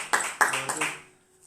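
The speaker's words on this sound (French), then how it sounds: "On applaudit le Seigneur." A church congregation claps during a French-language worship service: a few sharp bursts of clapping that quickly fade into quiet.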